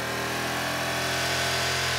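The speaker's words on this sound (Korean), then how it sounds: "먼저 튜닝을 안 한 순정 이륜차가 멈춰 있을 때 배기 소음을 측정하는데요" A stock, untuned motorcycle idles while stationary during an exhaust noise test, giving a steady, even engine drone with a low hum, nearby and unbroken, with no talking.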